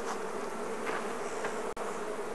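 Bees at an open Langstroth hive, a continuous dense buzzing hum heard close and steady, with no talk.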